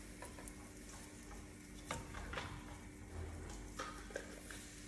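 Pancake batter cooking on a hot griddle, a steady soft sizzle running throughout with a few light scrapes and taps of utensils, heard close with no talking.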